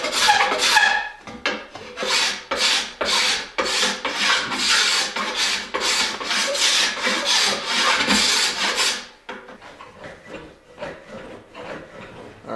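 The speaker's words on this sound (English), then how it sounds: "we're gonna go ahead and concentrate our scraping right in here while we blend it into the entire limb" A scraper works along a wooden longbow limb during tillering, making rapid rhythmic rasping strokes, close and fairly loud, that carry on for about nine seconds and then give way to softer, sparser scrapes.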